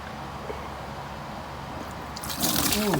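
Water drains out of a Ford 3000 tractor in a steady low gush, then brightens into louder splashing and trickling near the end.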